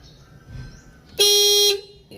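A single loud car horn blast of about half a second, on newly repaired horn wiring, sounds close by over a low background hum.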